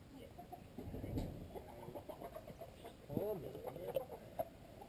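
Australorp chickens clucking as they are herded in for the night on a farm, a run of close, soft clucks and murmurs with some voice-like sounds mixed in.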